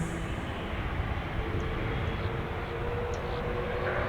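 A heavy Airbus A330 airliner touches down at Orlando International Airport, giving a steady, broad rumbling roar heard from a distance with no break across the moment.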